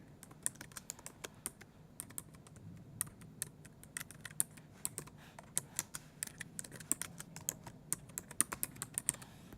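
A book title typed on a computer keyboard, a steady close patter of light plastic key clicks with irregular rhythm and occasional louder taps, over a faint hum and with no one speaking.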